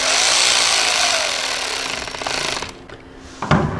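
A Torx 30 driver runs a bolt back into a motorcycle engine guard on a Sportster S, a loud steady buzzing whir for nearly three seconds that cuts off, followed by a brief clank.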